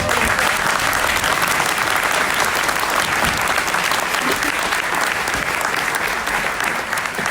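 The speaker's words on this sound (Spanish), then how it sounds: "Quiero pedir un aplauso para María Corina Machado" A large conference crowd breaks into loud, sustained applause for María Corina Machado, leader of Vente Venezuela. Dense, continuous clapping fills the room at full strength from start to finish.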